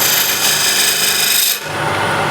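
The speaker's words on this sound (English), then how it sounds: "I'll use a narrow square and scraper" A narrow square scraper cuts dense hardwood spinning on a lathe, giving a harsh continuous rasping scrape that stops abruptly near the end, leaving the motor's lighter hum.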